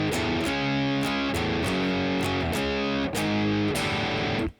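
Loud, gritty electric guitar plays the second main riff of a song, crunchy chords broken by short pauses, ending abruptly.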